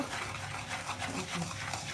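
Semolina and sour curd batter for dhokla being whisked in a bowl, a quiet, continuous scraping and stirring rustle with a brief voice underneath.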